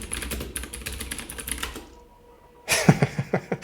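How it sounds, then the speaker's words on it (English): Rapid keyboard typing in a video game, a steady patter of clicks for nearly two seconds, a short pause, then a louder burst of distinct keystrokes close up. "I can't type it."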